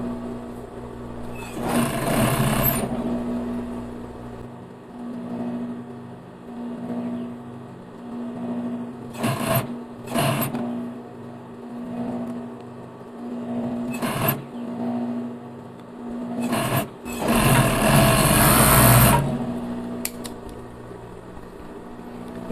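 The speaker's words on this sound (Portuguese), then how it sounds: "vou passar a costura junto com o elástico" A sewing machine stitches a seam with elastic on ribbed knit fabric, giving a steady low mechanical hum broken by several louder bursts of running and rustling handling noise nearby.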